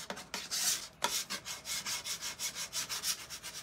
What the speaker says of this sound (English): you're just scraping some of that paint off